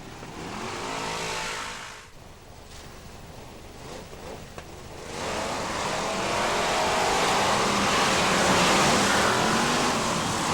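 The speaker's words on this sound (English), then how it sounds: "And the rest of the cars come charging across the line." BriSCA F1 stock cars race past on a raceway straight, a loud, continuous engine roar that dips briefly before swelling again as the pack charges across the line.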